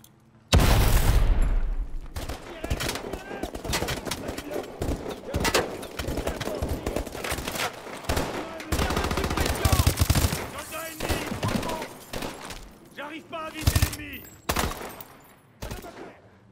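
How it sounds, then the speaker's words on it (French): Gunfire in Call of Duty: Advanced Warfare, with loud bursts of automatic weapons, single shots and booms in uneven, dense volleys throughout, mixed with shouted soldier voices in the background. "Tire de suppression!"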